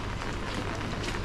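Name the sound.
rain falling in a small Chinese town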